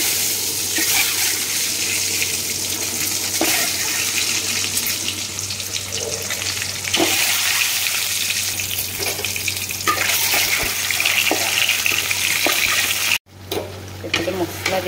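Water pours into a pan of egg curry with fried eggs and masala, a steady hissing splash with sizzling that runs loud and close for most of the stretch, then cuts off briefly near the end.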